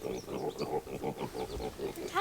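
Four feeder pigs grunt in a quick, steady run of short, close, fairly loud grunts, ending with a higher squeal.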